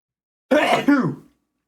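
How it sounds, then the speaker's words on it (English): A single loud sneeze bursts out at close range, a sharp two-part blast of breath and voice, followed by silence. "Oh god, I'm gonna sneeze."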